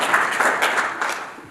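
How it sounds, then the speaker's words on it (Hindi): An audience at a Jeevan Vidya introductory camp claps enthusiastically, a dense burst of indoor applause that holds steady for a second and a half. "आपके लिए जोरदार तालियां।"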